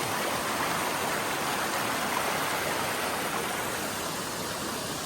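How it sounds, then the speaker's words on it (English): Waterfalls and a mountain stream rush continuously along a hiking trail, a loud, steady broadband roar of falling water close by, with no voices. "Pretty cool waterfalls."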